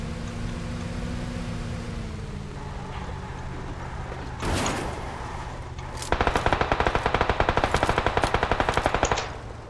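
Gunfire aimed at a buggy in PUBG Lite on the Miramar desert map: a continuous engine drone, a single sharp shot around the midpoint, then a long loud rapid burst of automatic fire to the end.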